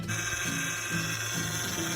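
A steady mechanical whine with a rhythmic, pulsing groan repeating about every half second, close and continuous, from a car's power steering low on fluid.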